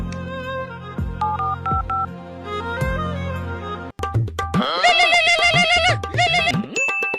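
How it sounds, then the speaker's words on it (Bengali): A telephone call is being placed: a few short electronic beeps, followed by a bright, loud melodic ringing tone that plays on without any speech. "দেখি আমার বন্ধুটাকে ফোন করে তো।"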